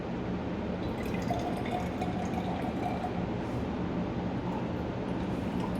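Water from a continuous filtration setup in a lab trickles and drips slowly into a collecting vessel, a steady soft wash of flowing liquid with faint irregular drips, no voices.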